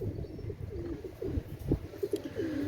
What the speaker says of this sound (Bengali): একজোড়া সাকি রেডি কবুতর